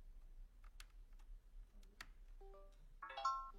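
A Windows computer plays its device-connected chime as the USB cable of a Humanware braille display is plugged in: a short rising run of tones near the end, after faint clicks, in a quiet room.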